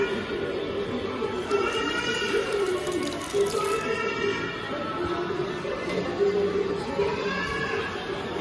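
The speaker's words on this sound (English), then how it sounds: "Wash your hands." Running tap water splashes steadily as a child washes their hands at a sink, with children's chatter and an adult voice in the background throughout.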